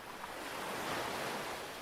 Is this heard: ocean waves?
yes